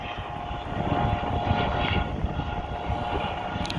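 A landed helicopter by a canal in Utrecht, Netherlands, gives a steady rotor and engine roar, continuous and fairly close, with no voices.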